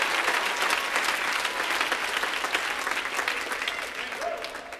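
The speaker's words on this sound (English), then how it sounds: "clap your hands unto the Lord" A church congregation claps hands in worship, a loud, dense and steady burst of applause that fills the room and fades a little toward the end.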